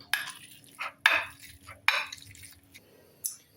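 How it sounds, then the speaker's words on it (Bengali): Fried taki fish being mashed by hand, a few soft squelching presses and scrapes spaced apart, close and fairly quiet. "এখন এভাবে মাছগুলারে ম্যাশ করব"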